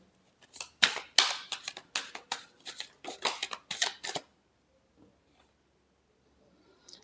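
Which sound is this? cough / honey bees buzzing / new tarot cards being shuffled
new tarot cards being shuffled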